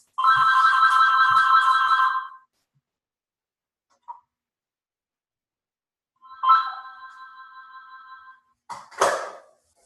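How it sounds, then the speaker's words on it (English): A phone ringtone plays a loud warbling burst for about two seconds, then falls silent. After a pause it returns briefly, followed by a short clatter near the end. "gotta continue to live life even though the phone rings"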